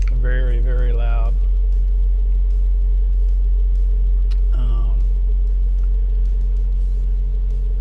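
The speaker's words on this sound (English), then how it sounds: "it's a loud reefer. Very, very loud." A loud truck trailer refrigeration unit runs at a Walmart lot in Greensboro, North Carolina, giving a heavy, constant low rumble throughout, with a voice talking over it at the start and again briefly midway.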